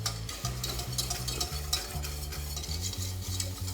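Steady whisking of stock into gravy in a pan, a continuous scraping stir with a soft sizzle, close and rhythmic, with no talk.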